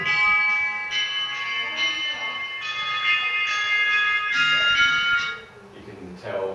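Bright, sustained chimes ring in a minor key, a few tonal strikes overlapping and fading while people talk quietly beneath them.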